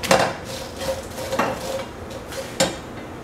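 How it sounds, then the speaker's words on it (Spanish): Crackers browning in oil in a pan for chicken mole, with a faint steady fry under several sharp metal utensil clinks and scrapes against the pan. "Estamos dorando las galletas"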